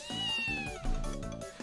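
A cat in the video game Princess Evangile gives one drawn-out, wavering meow followed by a second shorter cry, loud and close with no talk over it.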